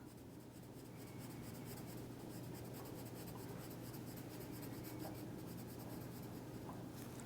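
Pencil crayon rubs steadily across paper while colouring in small spaces, a soft, continuous scratchy rasp close up with quick repeated strokes in a quiet room.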